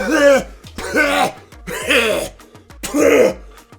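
A person imitates a sick person's cough, giving four rough, throaty coughing and throat-clearing bursts at close range, separated by short pauses.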